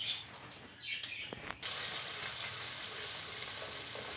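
Ground onions drop into hot oil for a fish curry, and a loud, steady sizzle starts suddenly and continues close-up after a quieter stretch of faint clinks and chirps, with no voices.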